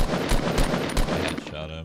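Rapid bursts of automatic gunfire in a Fortnite duo match, loud and close, with a short rattling volley followed by a few more shots.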